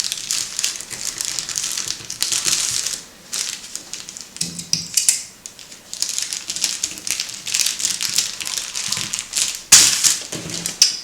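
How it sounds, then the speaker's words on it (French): Scissors cut fabric all around paper sewing templates, giving soft irregular snips and crinkly paper rustles close by and fairly quiet, with no speech. "c'est qu'on va venir découper tout autour."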